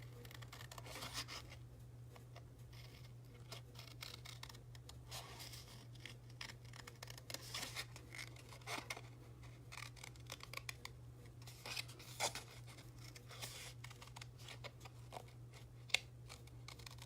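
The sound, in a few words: scissors cutting paper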